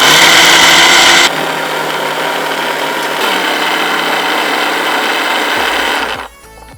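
Electric mixer grinder blending mint coconut chutney with a little water: a loud, steady whir that drops slightly in pitch after the first second, then keeps running evenly before cutting off near the end.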